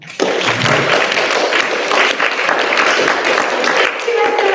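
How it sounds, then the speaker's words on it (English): An audience at a community governance event bursts into loud, close applause, a dense continuous clatter of many hands that holds steady for several seconds, dips briefly, then carries on. "a round of applause to all of you"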